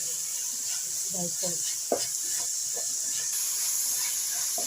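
Peeled tomatoes sauté in a pan for a Kerala-style chicken curry, a steady close hiss of steam and sizzle while someone talks over it and a spoon knocks once against the pan.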